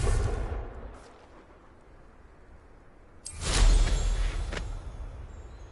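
A Confringo spell explodes in the Hogwarts Legacy video game, a loud booming blast with a rumbling tail, following a fading rumble from an earlier blast and a short quiet lull.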